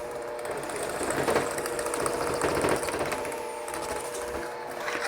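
An electric mixer beats flour into oatmeal raisin cookie dough with a steady whirring hum and soft rhythmic thumping, continuous and close.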